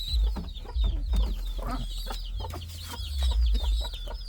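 Indian fantail pigeon chicks being lifted out of their nest give rapid, high squeaky cheeps close by, mixed with handling rustles and soft low thumps.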